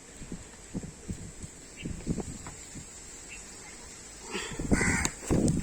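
Crows caw a few times at moderate distance, with harsher, louder calls near the end, mixed with low thumping and background hum.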